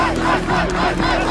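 A packed esports arena crowd at a Fnatic vs H2K semifinal game five roars and cheers loudly and continuously, a dense wall of voices with shouts rising throughout.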